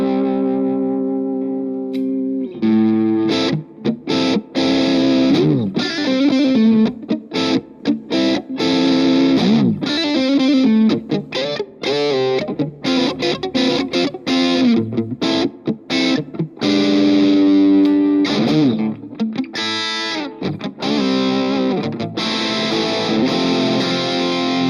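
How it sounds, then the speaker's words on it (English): Distorted electric guitar chords and riffs through a Positive Grid Spark Go with gate, overdrive and reverb, a roomy reverb tail, played steadily and loud for the whole stretch, no voices. "It's orange, it's a gate, a overdrive, and some reverb."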